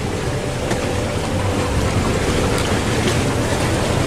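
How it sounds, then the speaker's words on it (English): A sailboat under way in a light wind off Guadeloupe, with steady broadband rushing of wind and water along the hull, constant and even throughout, no voices. "We are now sailing out to the main island of Guadeloupe and we got ourselves a little wind."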